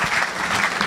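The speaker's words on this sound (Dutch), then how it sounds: "Graag uw hartelijk applaus voor Theo Danes." A short, steady burst of audience applause greets poet Theo Danes at a poetry competition, a dense even patter of clapping with no voices over it.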